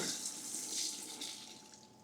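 Tap water pouring into a bucket of keg cleaner solution, topping it up: a steady, soft hissing splash running continuously, fairly faint and close, with no voices.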